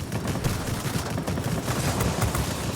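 Aircraft cannon fire from a Me P.1102B jet armed with 30mm cannons in the video game World of Warplanes, a dense continuous rattling fusillade held at a steady level throughout, with no talking.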